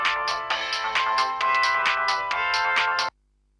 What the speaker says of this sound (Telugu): అది నా ఫోనే రింగ్ అవుతుందని తెలుసురా నాకు